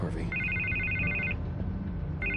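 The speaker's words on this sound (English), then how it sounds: "I can't get the phone to stop ringing" An electronic telephone ring trills twice in a Batman: The Telltale Series video game scene, close and clear, with a game soundtrack and a voice beneath it.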